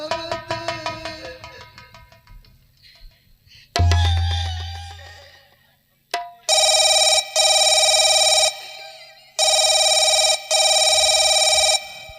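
A call to a police station rings through on a telephone. Short music plucks and a low thump come first, then three loud, buzzy ringback tones repeat in even bursts with short gaps between them.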